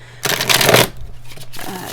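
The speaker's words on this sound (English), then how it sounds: "These are well shuffled cards." Tarot cards are shuffled by hand, a loud riffling burst of close card flutter lasting about half a second, then softer shuffling and tapping as the deck is squared.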